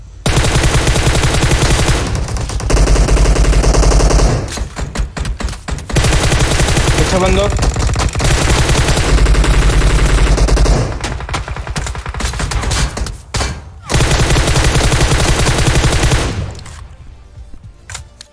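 Rapid automatic gunfire in PUBG Mobile during a solo-versus-squad fight rattles in long loud bursts, broken by brief gaps and near-constant battle noise, with someone speaking over it at times.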